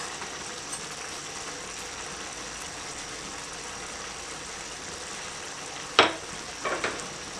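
Cumin seeds frying in oil for masoor dal with spinach give a soft, even sizzling hiss, with a sharp clink of a utensil near the end and a couple of small knocks after.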